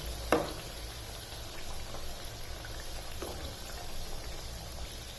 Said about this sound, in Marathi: छान सोनेरी रंग येईपर्यंत कापण्या तळून घ्यायच्या.